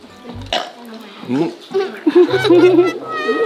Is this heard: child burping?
yes